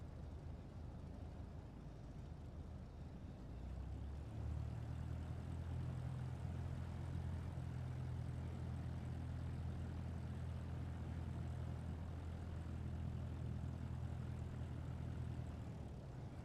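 An airliner taxis in Microsoft Flight Simulator 2024, a steady low engine drone that swells after a few seconds and holds a constant hum throughout.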